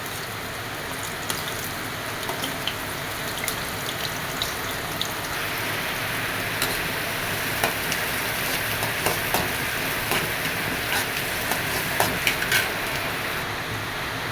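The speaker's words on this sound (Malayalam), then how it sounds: "അതിലോട്ട് ഒരു സവാള കട്ട് ചെയ്തിട്ട് കൊടുക്കാം" Sliced onion frying in hot oil in a pan, a steady loud sizzle with scattered crackles and pops that grow more frequent over time, with no talking.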